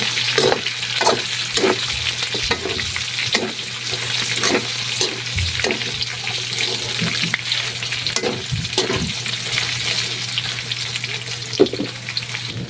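Spices for tilapia ginataan sizzle steadily in a hot pan, with a continuous frying hiss broken by regular scraping strokes of a spoon or spatula as they are stirred, close and fairly loud.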